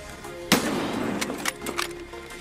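A single sharp gunshot cracks out in a video game firefight, followed by a few lighter pops and impacts over a steady background hum.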